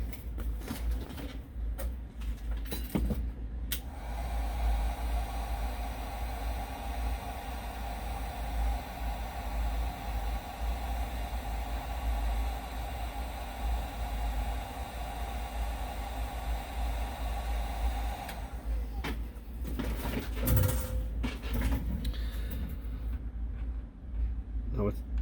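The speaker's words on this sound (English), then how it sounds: "Heat gun, and shrink the heat shrink." A heat gun blows steadily while shrinking heat shrink tubing over a soldered resistor on a GoPro BEC cable, a constant hissing whir that starts abruptly and cuts off, with handling noises around it.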